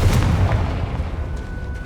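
Confringo blasting spell explosion in the Hogwarts Legacy video game: a loud, deep boom with a crackling burst, decaying into a rumbling tail, with no voices.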